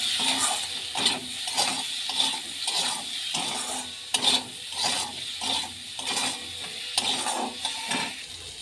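A spoon scrapes and clatters rhythmically around a pan as pumpkin pieces with salt and turmeric are stirred in mustard-seed-tempered oil, with soft sizzling beneath the repeated strokes.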